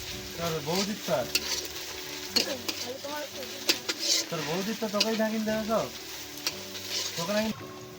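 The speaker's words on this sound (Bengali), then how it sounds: "আদা জিরেটা দিয়ে একটু ভেজে নিচ্ছি" Ginger and cumin fry with onion and garlic in a pan at an outdoor picnic by a pond. The close, crackling sizzle is broken by repeated stirring strokes while a person talks over it.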